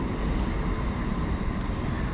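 Train pulling away from a platform at a West Yorkshire station on the Pontefract Line, a steady loud low rumble of engine and wheels filling the whole stretch with no talk over it.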